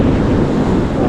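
Big ocean waves and strong wind roaring together, a dense, steady wash of surf and gusting wind noise, loud and close.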